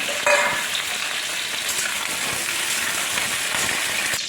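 Pointed gourd and rice fry together in mustard oil in a kadai, giving a steady close crackling sizzle with faint stirring clicks, heard alone.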